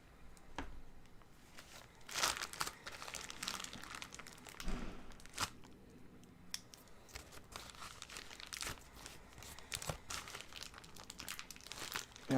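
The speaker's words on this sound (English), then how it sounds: "It just clings to the plastic bag whenever I try to get a good chunk of it out." A plastic bag of soft, wet clay crinkles and crunches in irregular bursts while the clay is scooped out by hand, close and fairly quiet with short pauses between handfuls.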